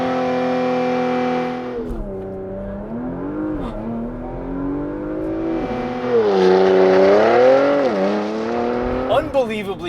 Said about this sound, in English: time for me to drive. Launch control.